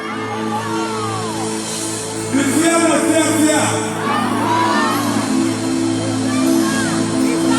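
A crowd cheers, shouts and whoops at a live performance of a popular gospel song by a duo, the noise swelling partway through over a sustained musical drone and mixed with talk.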